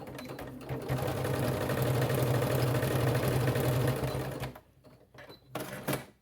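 A sewing machine stitches down the open edge of a fabric strip for a Christmas stocking loop, a close, steady whirring clatter for about four seconds, then a short stop and a brief restart.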